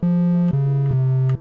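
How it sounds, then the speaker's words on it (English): A synthesizer triangle-wave tone sounds three sustained notes in quick succession, each slightly lower than the last, clean and alone. "We've got a triangle wave."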